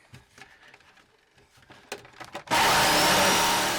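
Power saw bites into a plywood deck on a Com-Pac 23 sailboat, a loud sustained cutting roar starting abruptly after a few seconds of quieter handling clatter and knocks.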